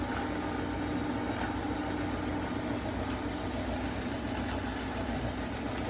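A General 340 drill press runs with a loose belt guard, giving a steady, close mechanical hum and rattling vibration that stays even from start to finish with no talking.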